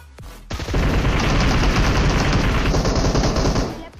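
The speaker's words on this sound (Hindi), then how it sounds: "तभी यार अपार्टमेंट की तरफ से फायरिंग भी होने लगती है" Sustained automatic gunfire from an apartment in the mobile game PUBG Mobile, a dense, loud, unbroken burst of rapid shots lasting several seconds before cutting off.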